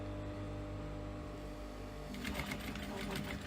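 A sewing machine stitches a clutch purse, running in a steady close whir over faint mains hum, then speeding into a brighter, busier rattle toward the end.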